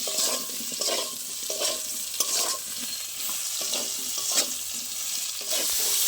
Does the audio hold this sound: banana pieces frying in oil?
yes